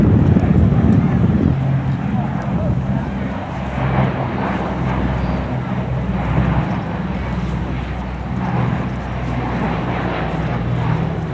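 Sally B, a four-engine heavy bomber, flies past at an air show with a steady, broad piston-engine drone and heavy wind rumble from start to finish, holding at a loud, even level.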